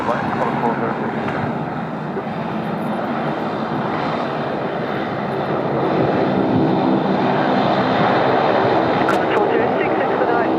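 A Qantas airliner landing on runway 34 left at Sydney Airport in a strong crosswind gives a steady, loud engine roar throughout, while radio voices talk over it.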